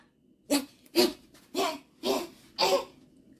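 A dog pants and huffs in five sharp, evenly spaced bursts, close and fairly loud, each breath rough and throaty like a cough, with no talk.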